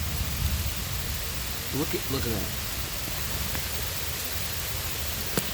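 Heavy rain falls steadily outside a balcony window, a constant broadband hiss heard from close by with a short stretch of talk partway through.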